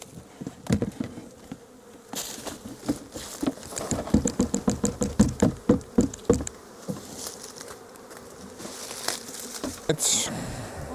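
A swarm of honeybees buzzing nearby, heard as a loud rhythmic run of pulses building in the middle, with scattered handling noises and brief voices around it.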